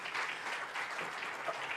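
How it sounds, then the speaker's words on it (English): Round of applause from the audience at an African broadcast and digital media convention, a brief, fairly distant wash of clapping heard on its own. "please join me in giving a round of applause for these guys for the wonderful job they've done."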